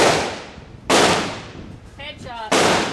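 Shots from a DPMS AR-15 rifle fired at a target ring out as sharp, loud broadband cracks, one at the start and two more about a second and a half apart, each trailing off with a short echo.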